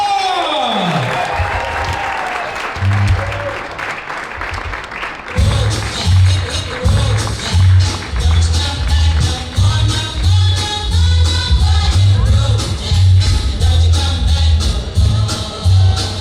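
A big stand-up comedy crowd applauds loudly and steadily, with a cheering swell, while rhythmic music with a thumping beat kicks in partway through.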